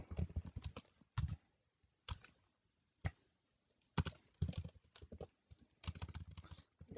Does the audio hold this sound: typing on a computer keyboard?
yes